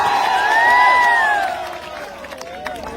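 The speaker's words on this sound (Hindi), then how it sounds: "काजल को जोरदार ताली बजा के आप सपोर्ट करिए" A stage-show audience cheers and claps, a broad wash of crowd noise with a rising whistle or whoop riding over it, loud at first and easing off toward the end.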